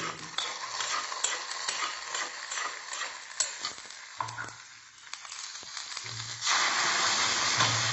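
Tempering frying in a pan for South Indian buttermilk stew, a steady crackling sizzle with scattered pops and ticks, fading quieter midway before swelling into a louder, even hiss at the end.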